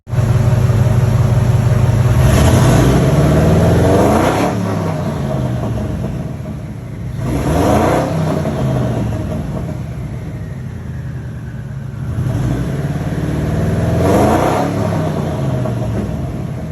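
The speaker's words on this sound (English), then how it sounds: "Insert clip of car running and whirligigger noises now." A twin-turbo car engine runs loudly and revs up several times, each rising roar falling back to a deep idling rumble between pulls.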